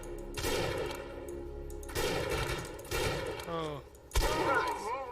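Gunfire in the video game Defiance 2050, four loud separate bursts of shots about a second apart, each with a rattling tail. A brief rising tonal effect sits between the third and fourth burst, and a voice makes a short exclamation.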